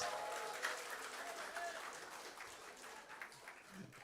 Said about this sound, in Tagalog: At lahat ng masaya, pumalakpak ng malakas.